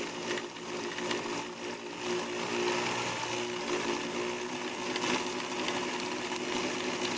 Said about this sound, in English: Now I can slowly start pressing my foot pedal, and I'll watch the bobbin start winding with thread.